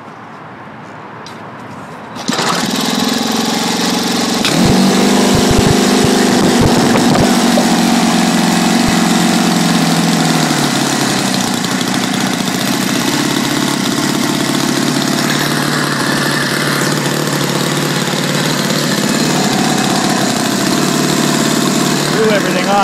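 A Saito FG-21 gas four-stroke RC engine starts and runs steadily, a loud, close, buzzing drone that holds for about twenty seconds after a brief quieter start, with short bursts of throttle change early on.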